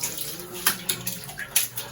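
Rain and drainage water pours into a home sump with a steady, splashing flow, broken by a few brief louder splashes.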